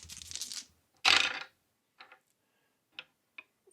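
Three dice are rolled for a tabletop RPG, making a brief rattling tumble followed by a few sparse, sharp clicks as they settle on a hard surface. Quiet handling noises come first.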